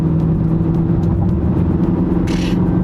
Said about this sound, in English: I'm just like half throttling it, and it just gets up and scoots.